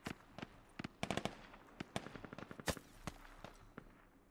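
Gunfire in the military shooter game Squad: scattered single shots and short bursts, sharp cracks at irregular intervals, mostly moderately distant and fairly quiet, no talking.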